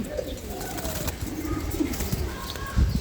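Low coos from male racing pigeons rise and fall amid background noise, with a brief flutter of wings near the end.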